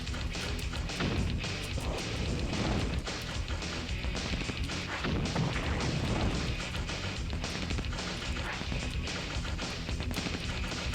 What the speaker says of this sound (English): Guess we can destroy a building in the meantime.